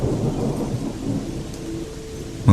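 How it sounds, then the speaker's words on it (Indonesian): Heavy rain with thunder as a radio drama sound effect: a dense, steady roar of rainfall with low rumbling underneath, ending in a sudden loud crack of thunder. "hujan turun sangat lebat"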